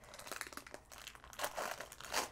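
Crinkly foil wrapper of a Disney Hunchback of Notre Dame trading card pack being pulled open by hand, a close run of sharp crackling bursts that swell louder toward the end, with no talking.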